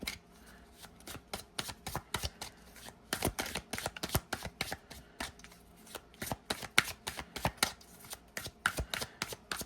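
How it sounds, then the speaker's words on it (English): Tarot cards shuffled by hand in a series of quick, crisp riffling bursts, close and fairly loud, with brief pauses between shuffles and no talking. "let me shuffle this a couple of times."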